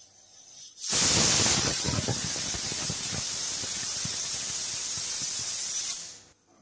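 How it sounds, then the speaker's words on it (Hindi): A pressure cooker whistle, cooking raw mango, gives a loud, steady high-pitched steam hiss that bursts in abruptly, holds for about five seconds, then cuts off, with faint rattling underneath. "हम कुकर को बंद कर देंगे और सीटी दिलवा लेंगे"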